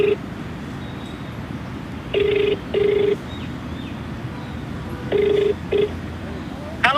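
Telephone keypad tones sound in two short pairs of steady beeps, loud and close, separated by pauses over a low background of room noise and faint voices.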